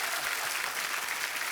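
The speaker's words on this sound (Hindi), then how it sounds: "तो बड़ा जोरदार तालियां।" Studio audience clapping on a comedy show, a dense, loud burst of applause from a crowd, sustained and even throughout.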